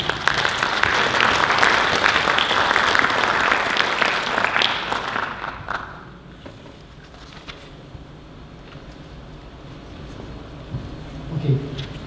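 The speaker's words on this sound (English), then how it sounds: "And you can help him with a round of applause, please." An audience at a developers conference applauds as a speaker comes on stage. Dense, loud clapping fills the room for about five seconds, then fades into quiet room noise.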